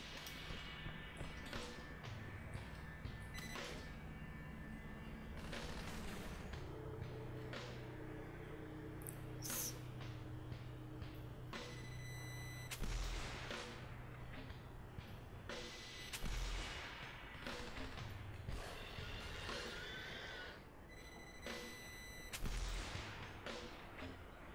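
Guided rockets from a shoulder-launched rocket launcher fire in a first-person shooter, a series of sharp launch blasts and thumping explosions spread irregularly over a noisy game soundscape.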